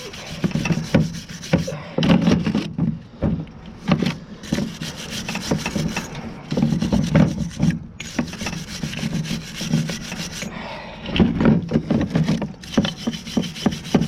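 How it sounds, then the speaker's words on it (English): Stiff brush dipped in diesel scrubbing grime off the power steering pump of an L10 Cummins engine, a steady, close rasping back-and-forth with repeated strokes and brief pauses. "Brush, dip it in the diesel here. Get some of the stuff off of this pump."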